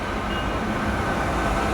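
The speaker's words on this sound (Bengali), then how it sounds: "মেট্রো ট্রেন ঢুকছে" A metro train pulls into Dum Dum station in Kolkata, giving a steady, loud rumble with constant broadband noise and no clear breaks throughout.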